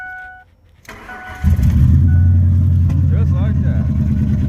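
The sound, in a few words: truck engine starting and running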